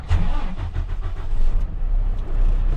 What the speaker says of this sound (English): I'm going to push the clutch in and start the truck.